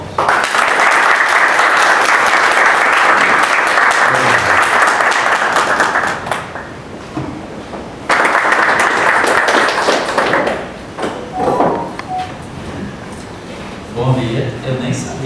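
Audience applause fills a formal inauguration ceremony at a Portuguese-language letters academy, loud sustained clapping for about seven seconds, a brief pause, then another burst that fades into scattered claps and murmuring.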